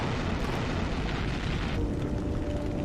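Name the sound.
missile explosion hitting helicopter in Metal Gear Solid video game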